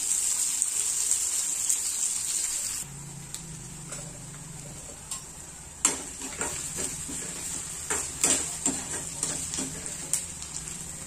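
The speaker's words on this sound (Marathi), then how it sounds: "कांदा आपल्याला व्यवस्थित थोडासा भाजून घ्यायचा आहे" Oil sizzles with a steady hiss as onion fries in a wok, punctuated by irregular clicks and scrapes of stirring.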